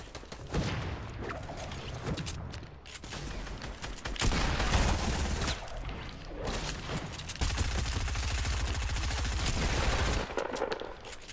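Video game gunfire, dense bursts of automatic shots and rapid fusillades in loud sustained stretches, close and continuous with little pause and no voices audible over them.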